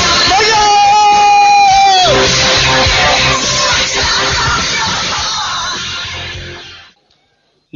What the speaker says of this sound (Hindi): जोरदार तालियों के साथ चिल्लाते हुए